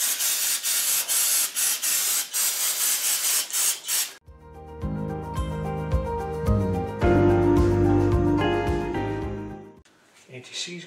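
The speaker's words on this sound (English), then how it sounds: "brake parts cleaner here and give her a good little spray." A loud, steady hiss of an aerosol can of brake parts cleaner spraying for about four seconds in short pulsing bursts, then cutting off as music begins.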